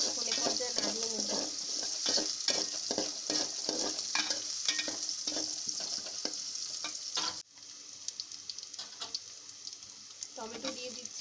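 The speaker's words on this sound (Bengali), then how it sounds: "তেল গরম হয়ে যাওয়ার পর এখানে পেঁয়াজ কুচি, রসুন কুচি ও মরিচ দিয়ে দিয়েছি। এখন এ পর্যায়ে নাড়িয়ে নেব।" Chopped onion, garlic and chili fry in hot oil as a spoon stirs them, giving a loud, dense sizzle with frequent scraping clicks that drops abruptly to a softer hiss partway through.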